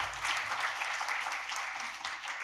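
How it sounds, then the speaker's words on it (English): Brief round of applause from a conference audience welcoming a speaker, a dense, even wash of clapping from a moderate distance. "Let's extend our warm welcome and appreciation with a round of applause."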